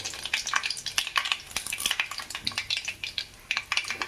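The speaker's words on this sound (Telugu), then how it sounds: "ఇదిగోండి 1 స్పూను పచ్చిపప్పు, కొంచెం జీలకర్ర, కొన్ని ఆవాలు, అవి బాగా ఎర్రగా వచ్చేదాకా వేపుకుందాం." Chana dal, cumin and mustard seeds fry in hot oil, making soft crackles and pops with quiet scrapes of a spoon stirring the pan.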